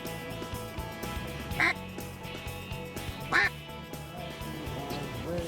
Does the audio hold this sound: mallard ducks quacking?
yes